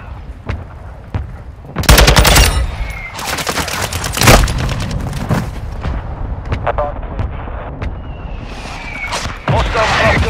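Loud, dense gunfire fills a Call of Duty: Modern Warfare II free-for-all match: machine-gun bursts, single cracking shots and heavy booms come in rapid clusters, close and continuous throughout.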